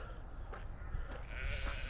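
Sheep bleating on an outdoor walk, a few faint, distant calls amid wind and broad outdoor background noise, with no nearby voices.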